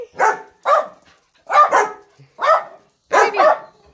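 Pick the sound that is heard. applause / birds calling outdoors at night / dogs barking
dogs barking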